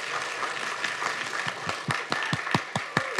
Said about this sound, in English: Let's give a final round of applause to our panel.